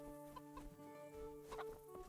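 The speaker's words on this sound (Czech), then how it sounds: "Tady slepice jsou." Chickens clucking in the medieval game Kingdom Come Deliverance, several soft clucks and short calls close by over a steady musical game backdrop, with no talking.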